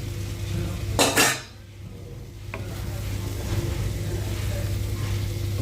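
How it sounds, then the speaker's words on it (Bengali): Boiled chickpeas stirred into cooked masala in a pan over a low flame, a sharp burst of metal spoon scraping and clanking up front, then a steady low sizzling hum continuing on. "সেদ্ধ করা ছোলাগুলো ভালোভাবে সব মশলার সাথে মিশিয়ে দিচ্ছি"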